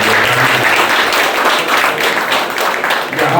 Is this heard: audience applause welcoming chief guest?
yes